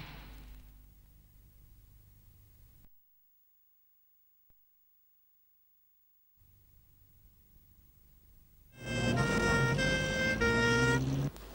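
A loud siren wails in rising and falling tones near the end, after a stretch of quiet road hum and a brief silence.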